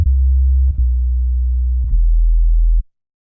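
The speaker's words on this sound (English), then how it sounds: "Just a single sub note. I'll play an octave higher for the headphone users." One synthesized sub bass note, played an octave higher, a pure deep sine tone held for nearly three seconds with a couple of soft retriggers or clicks, then stopping abruptly.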